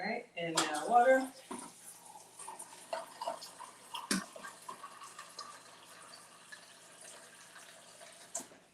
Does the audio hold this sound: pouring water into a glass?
yes